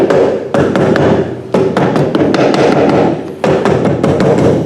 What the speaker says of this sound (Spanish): Entonces nos ayudamos con el martillo de goma